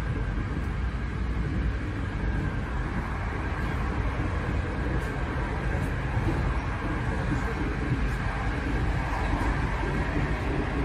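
Inside a Hungarian passenger train running from Budapest to Kecskemét, a steady, loud rumble and rolling roar fills the carriage without a break.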